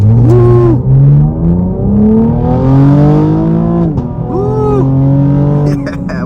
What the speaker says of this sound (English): We'll try out an acceleration off the line right here.